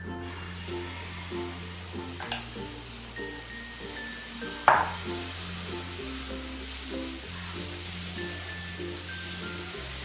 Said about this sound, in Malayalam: നമുക്ക് ഈ മാവ് കോരി ഒഴിച്ച് ദോശ ചുട്ടെടുക്കാം